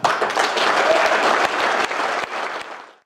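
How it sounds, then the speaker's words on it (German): Audience applause at a district fire brigade day in Bad Leonfelden, a dense burst of clapping from a large crowd that holds steady for about three seconds before tapering off at the end. "Einen großen Applaus für euch und all eure Leistungen für diesen Tag."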